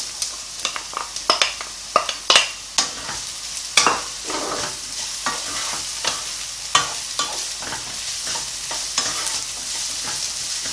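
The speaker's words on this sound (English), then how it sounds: "Just put the potatoes in." Potatoes go into a hot pan with browned onions and ginger, hissing in a steady sizzle while a spoon scrapes and stirs in sharp, irregular knocks, busiest at the start and then thinning out.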